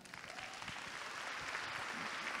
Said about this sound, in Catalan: un fort aplaudiment per tothom